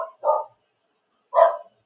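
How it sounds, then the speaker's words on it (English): A dog barks twice, short muffled woofs about a second apart, moderately loud and alone against silence. "He's been barking at nothing."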